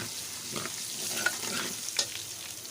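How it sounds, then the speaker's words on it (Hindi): Garlic ginger paste fries in hot oil in a pan, a soft, steady sizzle with occasional stirring scrapes and light clinks, fairly quiet and close, with no talking. "अब हम इसमें डालेंगे लहसुन अदरक का पेस्ट। इसको अच्छी तरह से फ्राई कर लेंगे"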